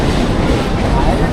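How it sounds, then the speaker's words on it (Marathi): A train running on the Harbour line passes directly beneath the listener, giving a steady, loud rumble with clattering wheels and a broadband roar that stays constant throughout the short stretch. "ट्रेन माझा खालून चाललेली ना"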